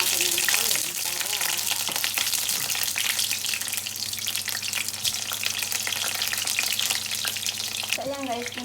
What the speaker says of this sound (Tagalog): piniprito ko muna yung talong